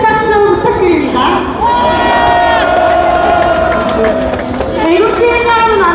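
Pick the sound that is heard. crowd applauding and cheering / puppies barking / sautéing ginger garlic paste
crowd applauding and cheering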